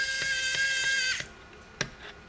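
A self-tapping screw is driven into a circuit board with a whining, ticking drive that stops abruptly. A faint click and a small tap follow in the quiet.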